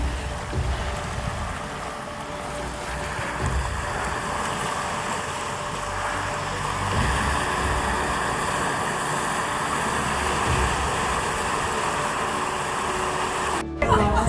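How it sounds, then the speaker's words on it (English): A steady low engine rumble of a large boat drones on continuously, mixed with wind and water noise, fairly loud and close. "It's a beautiful big boat coming in."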